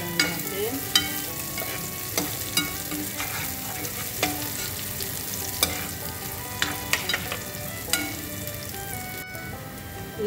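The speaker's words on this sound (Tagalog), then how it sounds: "Sunod ko na nailagay ang bawang at luya. At umikot-umikot lang natin." Garlic and ginger sizzle and fry alongside golden brown onions in a pan, with repeated scraping stir strokes and clinks of a utensil over a steady crackling hiss, close and continuous.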